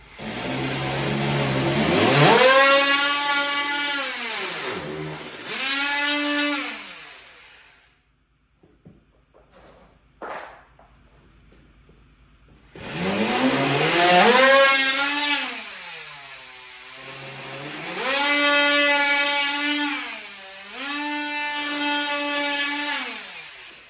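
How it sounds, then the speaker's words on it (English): A power drill or rotary cutting tool bores a small hole through a piece of sheetrock for a dishwasher water line, its motor whining up and down in long loud bursts, with a quiet pause and a brief blip midway. "I gotta make a little hole in this piece of sheetrock"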